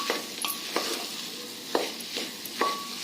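A bajra khichdi spice mixture with garam masala and chilli powder is stirred and sautéed in a pan. A soft, steady sizzle runs under several distinct metallic spoon scrapes and taps, close by, with no voices.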